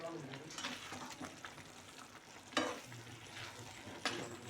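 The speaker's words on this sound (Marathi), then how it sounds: "त्याला मस्त असं हलवून घ्यायचं, जेणेकरून तो खाली चिटकणार नाही." A spoon stirs tomato rice cooking in a pot, soft repeated scraping and gentle sizzling at close range, with a few sharper clinks against the pot and a faint voice in the background.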